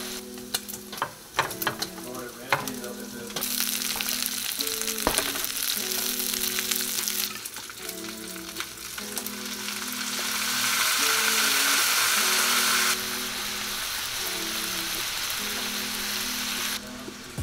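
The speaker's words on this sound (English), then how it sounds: "Chop your bacon up, put it in a pan. A little bacon ASMR." Chopped bacon fries in a pan with a loud, crackling sizzle up close, punctuated by clinks and scrapes of stirring early on, the hiss swelling louder for a stretch before settling, with no voices.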